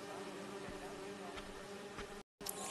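Bees buzz in a Marvel's Spider-Man 2 game scene, a faint, steady insect drone that runs for a few seconds and briefly cuts out near the end.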